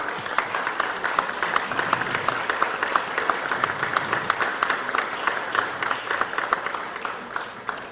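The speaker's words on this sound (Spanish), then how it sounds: "quiero pedir un fuerte aplauso" A seated crowd at a Chiapas book presentation breaks into steady, dense applause that holds evenly for the whole stretch, a fairly loud wash of many hands clapping with no voices on top.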